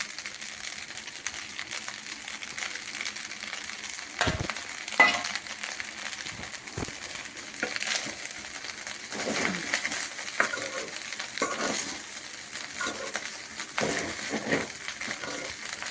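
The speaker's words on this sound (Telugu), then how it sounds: "హై ఫ్లేమ్ మీదనే పెట్టుకొని అన్నీ మంచిగా మిక్స్ చేసేసుకోవాలి." Paneer fried rice stir-fried on high flame, with rice and fried paneer cubes tossed in a hot pan, giving a steady soft sizzle broken by scattered scraping and clacking stirs, fairly quiet and close.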